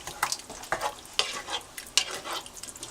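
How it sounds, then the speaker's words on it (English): A spoon stirs homemade vegan marinara sauce with added spices and basil, giving repeated scraping, sloshing strokes in an uneven rhythm, close and fairly quiet, with no one speaking. "Again, give it a good mix."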